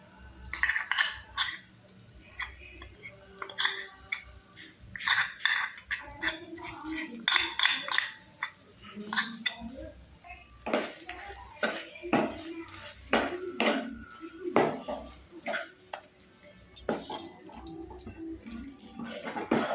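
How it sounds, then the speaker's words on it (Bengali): A spoon stirs a spice mixture into potato gravy for Kashmiri-style aloo dum in a pan, making repeated close metallic clinks, taps and scrapes in an uneven rhythm throughout. "এবার মিশ্রণটিকে ভালো করে মিক্স করে নিয়ে অ্যাপ্লাই করব গ্রেভিতে।"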